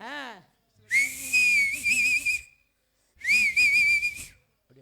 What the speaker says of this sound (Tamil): விசில் அடிப்போம்